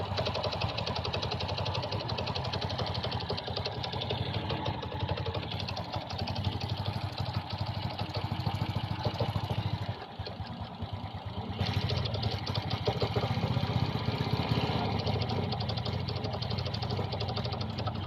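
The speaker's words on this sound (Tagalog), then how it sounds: "parang nalulunod ang kanyang makina o parang feeling ko mamatay ang kanyang makina" A Honda XRM 125 motorcycle engine with a hard-starting fuel delivery fault idles roughly and unevenly, knocking and sputtering, with a brief dip where it nearly dies before catching again.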